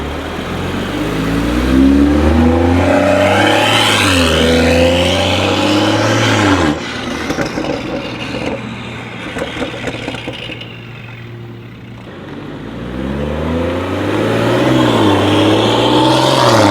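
A BMW X4 M40i with a Stage 2 downpipe exhaust revs loudly several times. Each rev swells and falls back, with a quieter idling stretch in the middle.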